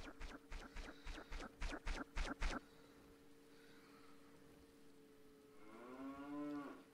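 A cow from the video game Zelda: Majora's Mask: a run of about nine quick, evenly spaced game sound effects, then a quiet stretch and a single drawn-out electronic moo at the end.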